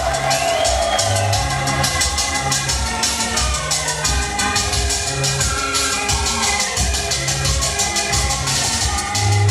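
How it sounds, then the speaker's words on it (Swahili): Wedding guests at a Tanzanian celebration applaud and cheer the organizing committee, a loud, dense crowd noise of clapping, whoops and voices sustained throughout. "Naomba tuwapigie makofi mengi kamati ya maandalizi."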